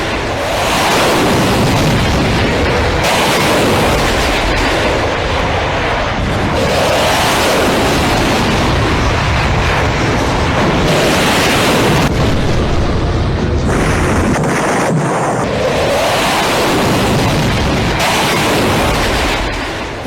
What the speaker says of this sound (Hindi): कुछ इस तरह रफाल ने मिसाइल फायर की